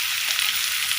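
Chopped tomatoes with a little salt sizzle in a hot pan for a South Indian vada curry, a steady, close hiss of frying with no pauses.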